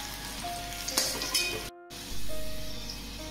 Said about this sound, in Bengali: আলুগুলোকে একটু লাল করে ভেজে নেব